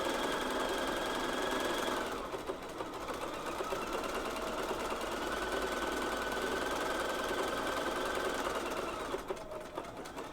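A sewing machine stitches women's underwear in a steady, continuous mechanical whir that runs close and loud for the whole stretch, briefly easing in pitch partway through before resuming at full speed.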